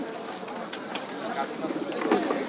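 Black Sirazi pigeons murmur with soft cooing amid the busy hubbub of the Tongi pigeon market, the birds low and blended into steady crowd chatter and nearby talk.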